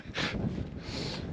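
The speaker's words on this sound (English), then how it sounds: "The wind's moving pretty quick" Strong wind gusting across an open outdoor campsite, a steady broadband roar that swells and buffets the microphone for a moment, with no voices.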